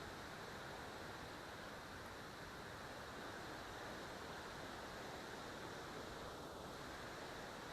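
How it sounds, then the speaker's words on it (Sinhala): A forest stream rushes in a steady, even wash of water noise, faint and continuous with no voices, in a rainy jungle. "එළ දොළ පාර සද්ද ඇහෙනවනේ"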